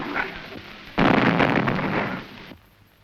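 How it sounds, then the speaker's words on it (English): A hand-thrown bomb goes off in an attack on Gandhi: a sudden loud blast that bursts in after a softer lead-in, roars for about a second and a half, then cuts away sharply. "The explosion was from a bomb thrown by a Hindu refugee to kill Gandhi."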